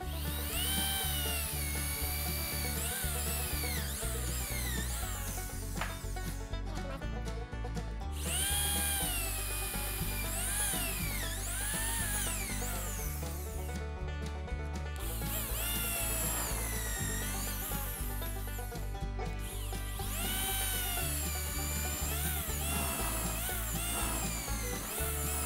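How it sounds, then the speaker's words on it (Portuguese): Power drill with a countersink bit boring holes in cedar or eucalyptus wood: a loud, steady whine that runs continuously, with slight pitch shifts as the bit bites into the wood. "vamos fazer primeiro dois furos aqui. Vou usar essa broca que já faz a entrada pro parafuso"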